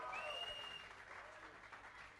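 Faint, distant-sounding clapping from an audience greeting a band at an interview event, a short soft patter of applause with no voices over it.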